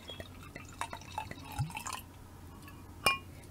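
Riesling white wine poured into a glass, heard as a few brief splashes and drips with a light glassy clink near the end, close and fairly quiet against a soft background.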